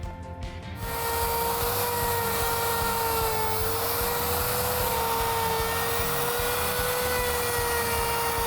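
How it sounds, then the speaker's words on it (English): Router with a pattern bit cutting a pocket into wood, spinning up after a moment of quiet into a loud, sustained high whine that holds steady to the end. "we're gonna make a little pocket in here with a pattern bit in the router"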